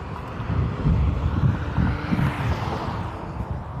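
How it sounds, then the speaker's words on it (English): Outdoor wind blowing as a steady low rumbling buffet over a microphone, continuous and fairly loud throughout, with no voices. "It's getting breezy, which makes me feel much cooler."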